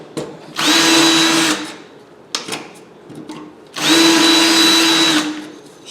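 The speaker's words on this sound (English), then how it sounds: "So just a 1/4-inch bit and just drilled it out." A 1/4-inch bit drills out sticky aluminum scrap in two bursts, each lasting about a second. Each burst gives a close, loud, whining power-drill drone over grinding chatter, with short clatters between them and no talking.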